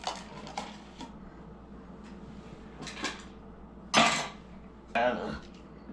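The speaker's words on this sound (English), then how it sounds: "Kind of a stir, and maybe that rice will break up." A spoon stirs meatballs and leftover fried rice in a crockpot, giving a few scattered scrapes and sharp clanks against the pot over a quiet, low background hum.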